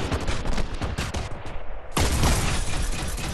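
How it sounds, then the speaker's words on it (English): Missiles launch in Fortnite as a dense, loud barrage of rapid firing and blasts, briefly thinning before another heavy burst erupts. "I'm gonna send missiles over there."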